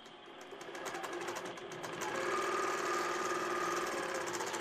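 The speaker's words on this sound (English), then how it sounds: "it's going to stitch around its first little section that it's going to do" INNOVA AutoPilot quilting sewing machine stitching around a section, giving a faint, steady, rapid mechanical whir and clatter that grows slightly louder partway through and runs on without pause.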